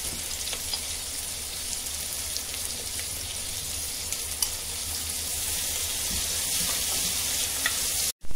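Onions with salt fry in a pan, a dense, constant crackling sizzle, close and loud, with occasional faint clicks, continuing steadily before cutting off abruptly at the end.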